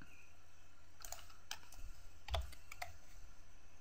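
Several quiet, scattered clicks come from a computer keyboard as keys are tapped, including the T key, with soft separate keystrokes spaced irregularly in a quiet room.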